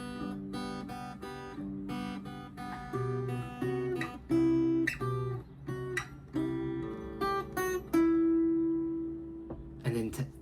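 A guitar plays the third part of the Hello Neighbour Act 3 theme, a solo melodic line of plucked single notes with some held tones, clear and close, with no talking.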